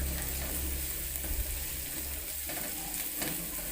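Chilies and spices frying and being stirred in a pan for shredded tuna, a steady close sizzle with scraping stirs, no talking.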